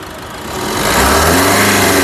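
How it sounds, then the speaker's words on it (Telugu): Diesel engine of a 2019 Maruti Brezza VDI running close up, rising from a low idle into a building rev that holds loud and steady for the second half. "కారు సింగిల్ సెల్ఫ్లో కార్ స్టార్ట్ అవుతుంది ఎటువంటి స్టార్టింగ్ ట్రబుల్ అయితే లేదు రేస్ దేదో"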